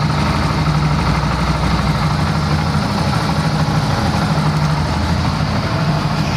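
A Bajaj CT 100 motorcycle, a newer model, idles steadily up close with an even low throb and a constant mechanical hum that stays level from start to finish, with no voices.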